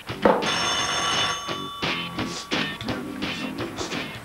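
Telephone ringing in a 1982 Greek comedy stage show: an old-style bell telephone rings in several repeated bursts, loud and close, with short gaps between rings.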